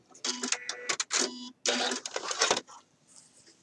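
A sewing machine stitches a shirt dress collar band in two short, loud bursts of rapid mechanical clatter separated by a brief pause, then fades to quiet.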